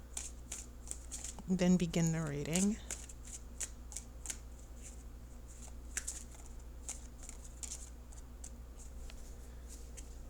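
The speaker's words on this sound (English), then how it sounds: "I'm going to shuffle for just a couple more seconds" Tarot cards are shuffled close up in soft, rapid riffles and light taps spread across the stretch, with a person briefly speaking early on.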